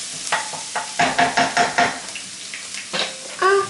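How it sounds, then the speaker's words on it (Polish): Chopped onion fries in two spoonfuls of fat in a pan, sizzling under a series of rhythmic scraping stirs and clinks of a utensil against the pan, close and fairly loud. "cebulę podsmażam na 2 łyżkach tłuszczu"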